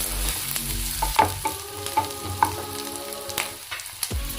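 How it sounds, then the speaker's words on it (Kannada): Sliced onions fry in a pan for a chicken dry dish, giving a close, steady sizzle broken by regular scraping clinks as a spatula stirs them, with no voice over it. "ಇದು ಫುಲ್ಲು ಗೋಲ್ಡನ್ ಬ್ರೌನ್ ಕಲರಲ್ಲಿ ಬರಬೇಕು ಆನಿಯನ್ನು."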